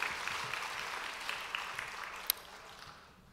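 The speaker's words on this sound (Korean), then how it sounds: "하나님께 영광의 박수 올려드리겠습니다" A church congregation gives a short burst of applause during a Korean Wednesday worship service, the clapping fairly faint and tapering off toward the end, with one sharp clap standing out.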